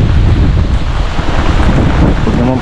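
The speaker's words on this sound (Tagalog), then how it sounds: "Malakas ng hangin" Strong super typhoon wind roars continuously against the microphone, a loud, buffeting rush with no pauses and no voices.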